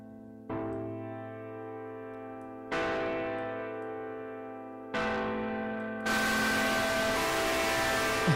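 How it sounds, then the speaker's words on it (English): Three sustained chord hits ring out with a buzzing, harsh edge, followed by a burst of noisy, heavily distorted sound. "Now you can hear how distorted that is."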